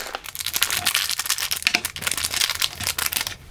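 Crinkly plastic packaging is handled and unwrapped, a bubble wrap bag and an antistatic bag around a USB tester, producing close, rapid crackling and rustling bursts throughout.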